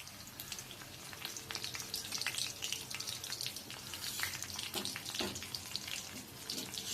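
Garlic fries in oil in a pan with a soft, steady hiss and crackle, faint and fairly close, with a few small pops and no talking.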